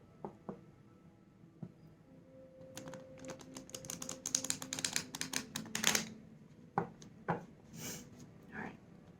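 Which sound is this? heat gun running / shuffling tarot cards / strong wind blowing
shuffling tarot cards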